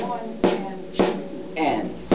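Four sharp snare drum strokes spaced roughly evenly, each a crisp broadband crack with a short decay, played alone in a quiet room during a drum lesson.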